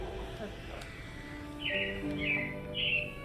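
Three short bursts of bright bird chirping, each a quick trill, rising over a steady background hum with faint distant sounds.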